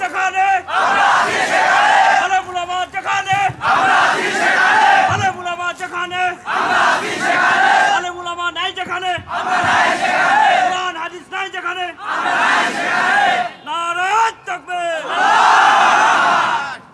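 A crowd at a religious gathering shouts the takbir in loud, massed unison, with bursts of voices rising and falling in a steady call-and-response rhythm that continues throughout.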